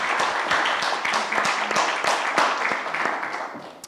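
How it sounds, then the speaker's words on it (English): Audience at a conference panel on revitalizing industrial parks applauding the presenters, with scattered, fairly sparse claps at an uneven rhythm, moderately loud and fading slightly toward the end. "Can you please give them a round of applause?"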